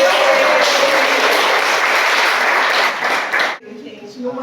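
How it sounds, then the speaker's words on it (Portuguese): A church congregation applauds together during a prayer session, with dense, sustained clapping that fills the room for about three and a half seconds before cutting off abruptly into near silence. "Estendem os braços para o alto e aplaudem a Deus."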